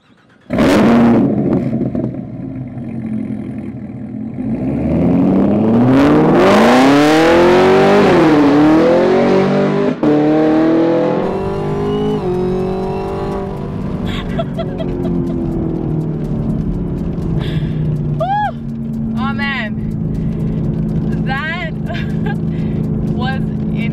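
A 2018 Chevrolet Camaro ZL1 drives and accelerates hard, its loud engine note climbing through rising revs with gear changes, then settling into a steady, sustained drone at speed, with occasional high chirps above it.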